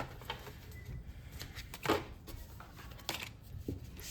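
Tarot cards being shuffled by hand, a brisk papery riffle of rapid flicks and slaps with a few louder snaps, close up and continuous over a soft background hiss.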